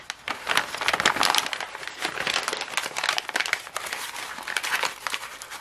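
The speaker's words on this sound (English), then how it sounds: "first you want to take it and crumple it up" Sheet of material being crumpled by hand to make faux leather, a dense, continuous crinkling and crackling close up with sharp rustling bursts throughout and no talk.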